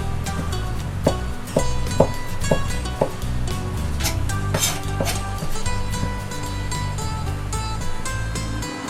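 A knife rough-chopping clam necks on a board, a series of loud, uneven knocks and clicks, some spaced and some in quick clusters, over a steady kitchen background.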